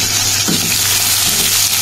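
Onion frying in mustard oil with black cumin in a pan, a steady loud sizzle running the whole way through with a couple of soft stirring scrapes.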